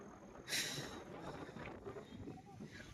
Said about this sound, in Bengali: হাওয়া হচ্ছে এখানে, খুব খুব হাওয়া।